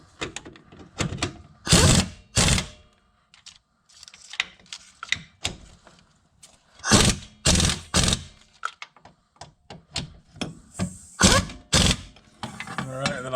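A hand ratchet tightens the wheel bearing bolts on a 2012 Jeep Patriot in a crisscross pattern, giving repeated bursts of close, loud clicking with short pauses between bolts.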